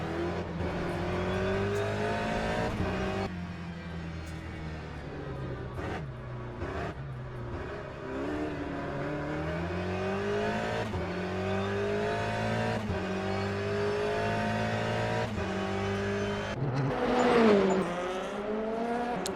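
A race car engine in Le Mans Ultimate, loud and close, revving through the gears with rising pitch sweeps and brief lifts at each shift, and a short tyre squeal near the end, with no talk.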